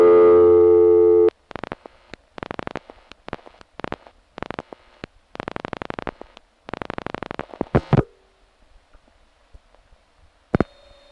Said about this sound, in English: Tuxedo, New York, on the other hand, did retrofit their busy signal